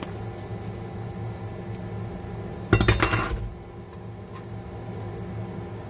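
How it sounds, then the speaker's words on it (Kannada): Grated coconut is stirred into beetroot frying in a pan, heard as a brief burst of clattering and scraping that stands out over a quiet, steady background hiss. "ಇದಕ್ಕೆ ತುರಿದಿರೋಂಥ ಕಾಯಿ ತುರಿನ ಮಿಕ್ಸ್ ಮಾಡ್ತಾ ಇದ್ದೀನಿ"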